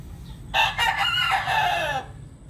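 A red bulik native rooster crows once, close and clear, a loud drawn-out call of about a second and a half over a steady low background hum.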